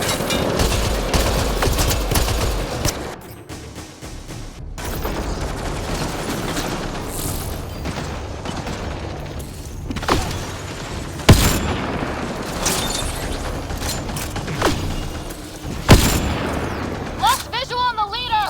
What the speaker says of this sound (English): Let's see if the cloak stops gunfire!